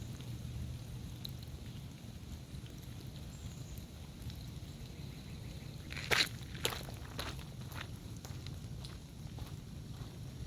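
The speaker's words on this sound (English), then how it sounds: "There's just something about walking in the rain." Steady rain falls across a wetland loop trail in a park garden, a soft continuous hiss with a few louder close taps or footfalls around the middle of the walk.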